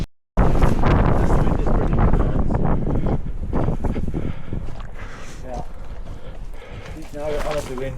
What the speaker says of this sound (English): now we're out of the wind.